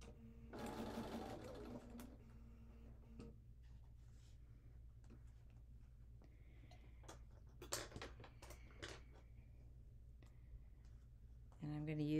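A sewing machine stitches a New York Beauty quilt block in short bursts of fast mechanical ticking and whirring, loudest at the start, with quiet pauses and handling clicks between runs.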